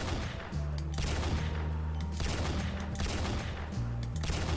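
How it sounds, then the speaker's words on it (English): Rapid sniper rifle gunfire from a modern suppressed-recoil weapon in the Garry's Mod game with the NeuroTec addon, a dense run of loud close shots with brief pauses, no voices. "this is a fancy sniper if I ever saw one"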